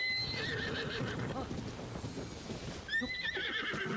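A horse at a stable in a video game whinnies loudly twice, the long neighs rising and trailing off, with a soft clip-clop of hooves running underneath.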